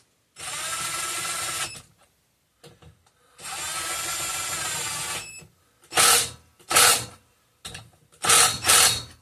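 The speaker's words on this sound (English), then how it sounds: "torqued that other rod cap to spec, which you will see now with my automatic torque wrench" An automatic torque wrench tightens a connecting rod cap on a seized air compressor pump, giving close whirring mechanical bursts: two long runs, then three short quick pulses, with quiet gaps between.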